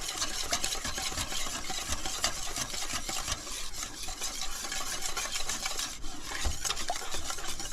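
A whisk scrapes and swishes steadily through a flan mixture with condensed milk in a bowl, making continuous, gentle, close rasping and stirring sounds with small clinks of metal against the bowl.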